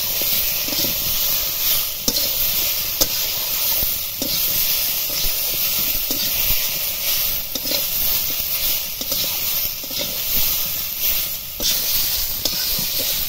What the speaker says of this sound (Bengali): আদা বাটাটা দিয়ে আবারও কষিয়ে নেব।